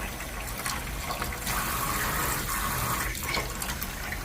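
Water from a tap runs steadily into a newly installed IKEA kitchen sink, a continuous rushing, splashing flow that fills the basin with no voices over it.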